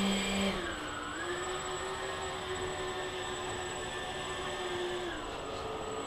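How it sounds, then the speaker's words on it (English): An FMS 1500mm A10 model jet runs on the ground in a small driveway, its ducted-fan whine holding a steady pitch, dipping briefly near the start and sliding again near the end, loud and close. "There's the new FMS 1500 millimeter A10."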